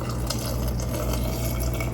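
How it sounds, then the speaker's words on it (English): Brine poured steadily through a funnel over fresh tomatoes packed in a large jar, making a continuous close, full splashing gurgle as the liquid fills the glass. "we're going to take this brine and we are going to carefully pour it over our tomatoes"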